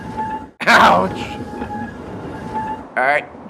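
A train rumbles along loudly with rattling cars and a sharp metallic squeal, then a brief high whine near the end.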